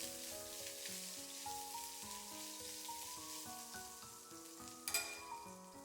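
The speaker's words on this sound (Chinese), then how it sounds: "加些食用油， 把薑絲放進去，稍微翻炒一下，炒出香味。" Shredded ginger stir-fries in cooking oil in a pan, giving a soft, steady sizzle under sustained background music, with one brief clatter near the end.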